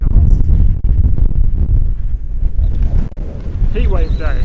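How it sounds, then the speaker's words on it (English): Strong wind buffets a microphone outdoors on a hot, overcast day, a loud, close, continuous low rumbling roar with a brief drop near the end, and a voice is briefly audible over it. "Goddamn, very windy."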